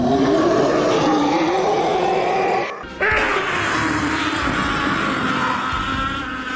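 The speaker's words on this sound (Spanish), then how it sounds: "El gran rugido de Lanza fue devuelto por un rugido de Pickle" Roaring beast sound effect, a loud rough growling roar with a brief drop midway before a second roar surges back and holds, heard alone without talk.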